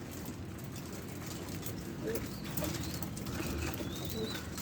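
Young pigeons in a coop coo softly and steadily over a constant background hiss, with faint chirps and a brief wing flutter, no voices.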